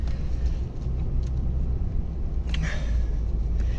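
A lawn mower drags its blades over roots in the ground, giving a steady, loud engine rumble throughout with brief scraping bursts around the middle.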